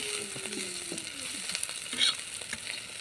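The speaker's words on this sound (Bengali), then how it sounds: "এই যে মাংসটা প্রায় ভাজা হয়ে গেছে" Beef sizzles steadily in a hot pan, a constant crackling hiss with occasional scrapes of stirring.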